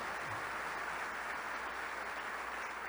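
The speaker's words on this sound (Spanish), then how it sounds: "¿Alguien le da un aplauso al Señor ahí donde está?" A Pentecostal church congregation applauds steadily for about three seconds, a dense, even wash of clapping across the full stretch with no voices standing out.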